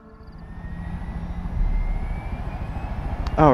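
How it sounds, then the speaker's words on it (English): Helicopter in the Far Cry 5 video game during a fast-travel flight, a low rotor and engine drone swelling in loudness with a steady whine above it and a brief sharper burst near the end. "Oh, it just fast travels me in my helicopter."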